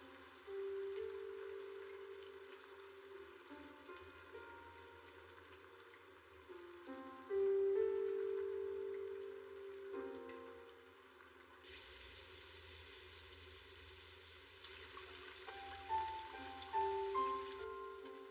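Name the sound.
rain falling, from an anime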